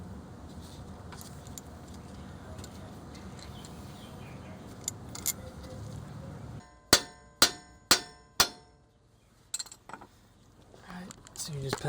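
A hammer pounds on the CV axle of a Nissan Sentra on the passenger side, four sharp metallic strikes in quick succession after a stretch of low background noise, followed by a few fainter clanks.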